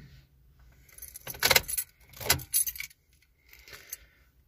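Keys of a Honda City jangle close up in a few short bursts of metallic clinking, quiet and without talk.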